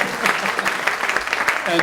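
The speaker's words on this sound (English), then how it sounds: "let's give our 3 companies a round of applause, please" An audience applauds three competing companies at an MIT Enterprise Forum event, a steady wash of clapping with a voice speaking over it.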